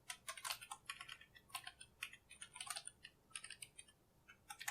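A computer keyboard is typed on while code is written, producing close, crisp key clicks in quick irregular bursts with short pauses, alone against a quiet background.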